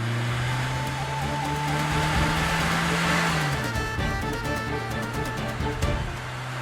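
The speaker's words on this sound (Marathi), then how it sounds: "किती जोरात गाडी चालवतोयस" A car driven fast, its engine droning steadily and close, then dropping in pitch about halfway through as it eases off.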